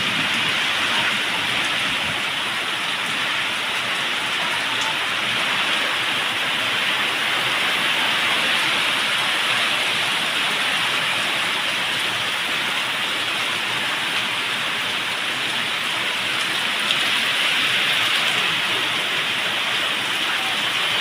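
Heavy rain pours steadily over rice paddy fields, a dense, continuous hiss that stays loud and even throughout with no voices.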